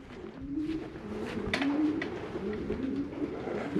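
Racing pigeons at their home loft coo repeatedly in soft, rolling phrases over a steady wash of outdoor background noise, with no talking.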